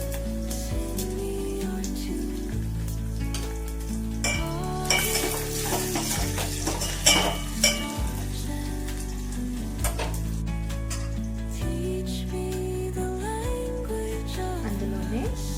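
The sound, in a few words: frying crushed garlic cloves in a pan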